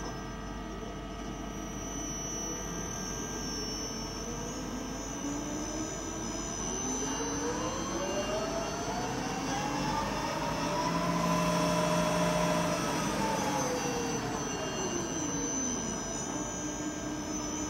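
A Mori Seiki SL-3 lathe spindle runs in low gear with a steady mechanical whine and hum that slowly rises and falls in pitch, sounding near and alone with no talk.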